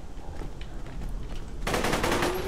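Assault rifle fire in Borderlands 2, starting low and muffled, then bursting into a loud, dense automatic stream of rapid shots for the final second.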